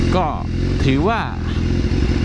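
A BMW S1000RR motorcycle with a loud aftermarket exhaust, its engine roaring close and loud through two quick rising and falling revs over a constant rumble, with someone talking over it.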